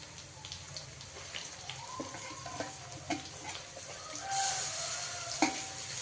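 Raw green chili and coriander paste sizzling in oil with browned onion for a pigeon pea dish, making a soft crackling hiss with scattered pops and stirring scrapes, fairly faint and with no talking.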